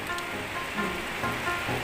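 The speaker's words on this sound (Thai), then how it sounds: "หลายเดือนผ่านมาฝนเพิ่งตกบ่" Rain falls steadily nearby, a close, unbroken rushing patter with slight swells in intensity and no talking over it.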